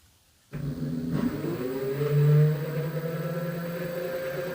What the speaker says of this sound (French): Vous entendez que le moteur tourne.